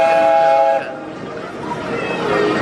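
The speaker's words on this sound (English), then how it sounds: "But oh, look at this! The train is coming." A train passes close by at Disney World with a loud, steady rumble, a sustained whistle tone sounding at the start and returning faintly near the end.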